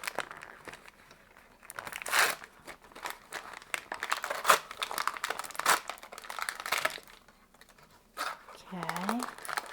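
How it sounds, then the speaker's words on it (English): Toy packaging for a Star Wars Black Series figure is ripped open in a few bursts of crinkling and tearing, close and fairly quiet, with brief speech between them. "We're just going to rip this open."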